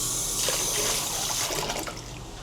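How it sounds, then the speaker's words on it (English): Water is poured by hand into a pour-flush toilet in Laos, a close, loud continuous splash and gush that tapers off near the end. "You have to take this disgusting water just here and pour it down"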